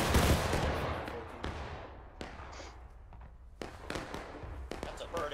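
Gunfire rings out in the Civil War video game War of Rights, with a loud blast at the start and several sharper distant shots cracking across the battlefield. Players talk over it.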